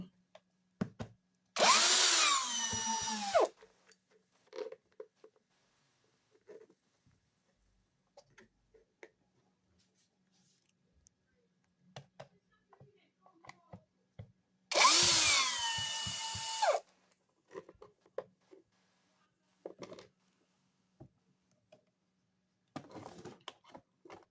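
A power screwdriver removing screws from the top piece of a Poulan chainsaw, heard as two loud whirring bursts of a couple of seconds each, close, separated by quiet clicks and handling noises.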